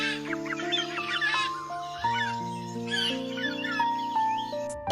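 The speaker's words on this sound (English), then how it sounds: "And the birds chirped songs in the trees." Cartoon birds chirp in trees in an animated Bible story of creation, a quick run of bright, playful tweets over a bouncy musical backing, close and clear.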